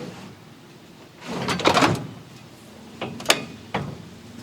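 The rear seat of a Kawasaki Pro FXT Ranch Edition Mule folds up on two hinges with a rustling, creaking swing followed by a few sharp clicks and knocks, close by and without speech.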